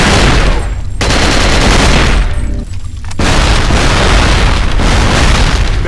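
Loud, dense bursts of automatic gunfire with heavy booming impacts in Cold Fear, continuous volleys broken by two short lulls, no talking.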